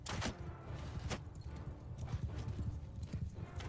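Horse hooves galloping in Bannerlord, a modded campaign battle, giving rapid repeated thudding clip-clop beats close by, loud and continuous throughout.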